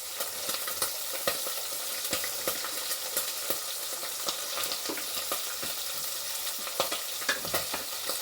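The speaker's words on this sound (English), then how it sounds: "So let me add onions and then capsicum." Onions frying in a pan for a beef stew, a soft continuous sizzle with occasional stirring scrapes and crackling pops, fairly quiet and with no talking.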